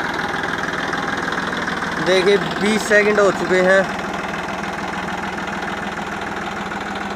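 A Massey Ferguson 9500 Smart tractor runs in first gear at slow speed, its engine a steady low idle-like drone throughout, while someone talks over it in the middle of the clip.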